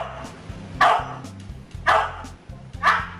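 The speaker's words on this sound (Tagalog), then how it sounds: "Ang aso ito, mistulang math genius at kayang itahol ang mga numero." A dog barks out numbers on cue, three sharp separate barks about a second apart, close and fairly loud over a low steady hum in the background.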